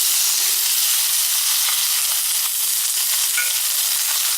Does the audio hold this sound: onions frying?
yes